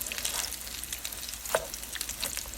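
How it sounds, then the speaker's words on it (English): Eggplant cutlets fry in a pan and are turned with two spatulas, giving a steady close sizzle and crackle broken by brief scraping touches. "So with the help of 2 spatulas, I'm going to flip them over."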